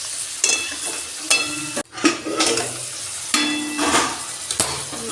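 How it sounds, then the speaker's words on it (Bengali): Greens being stirred in a frying pan before the lid goes on, with scraping and clattering strokes against the pan over a steady sizzle, several distinct stirring bursts with a brief pause between. "এটা নেড়ে চেড়ে ঢাকা দিয়ে দেবো"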